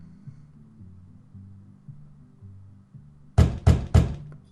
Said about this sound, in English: Let's knock on this door real quick.